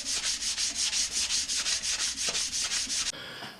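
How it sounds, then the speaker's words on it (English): Flat sander smoothing a welded, rust-repaired car body panel, with about fifteen quick rhythmic rasping strokes, close and loud. It ends in a short steadier whir, and no voices are heard. "Gonna hit her with a flat sander now."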